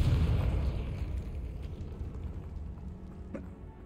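Blasting-spell explosion in Hogwarts Legacy: a loud low-heavy boom at the start that rolls off and decays over several seconds, with a faint crackle near the end.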